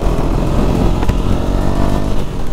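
A 1000 cc superbike engine rumbles loud and close in a steady, throaty idle-to-rev growl with a brief sharper burst midway.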